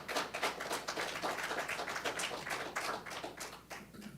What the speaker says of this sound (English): if you guys could hold your applause